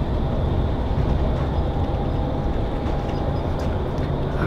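An international passenger train from Romania to Bulgaria crossing the Friendship Bridge rumbles steadily and loudly from inside, a continuous low drone with a faint high whine and no talk.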